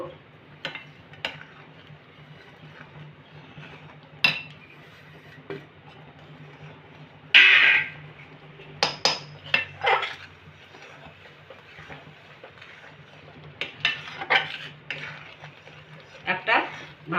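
Wheat flour, already roasted, stirred into milk in a pan over a low gas flame for modak dough: intermittent spoon clinks and scrapes against the pan over a low background hum, with a voice talking at times.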